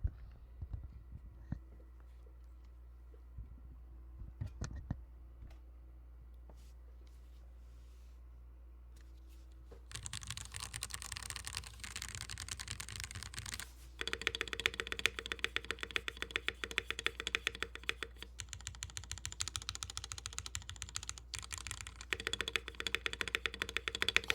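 Rapid, dense clacking of a 40% mechanical keyboard, quiet at first with sparse taps, then a steady loud stream of typing that continues to the end.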